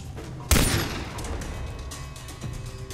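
A sharp gunshot in the video game Far Cry 3 bursts out loudly, then a long echoing rumble trails off, with a fainter second report near the end.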